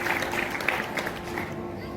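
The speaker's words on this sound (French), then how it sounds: "On peut applaudir encore une fois pour ça." Church congregation applauding during a first service for a new pastor, a soft, sustained patter of many hands clapping with a voice speaking underneath.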